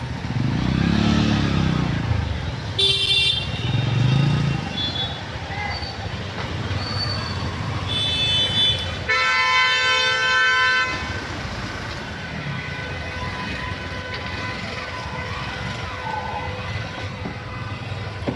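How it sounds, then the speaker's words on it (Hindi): Heavy, congested road traffic rumbles steadily while several car horns honk in short and long blasts, some loud and close. Engine drone runs throughout with no talking. "और यहाँ ट्रैफिक का हाल, अभी इसी ट्रैफिक से निकल के हमें आगे जाना है।"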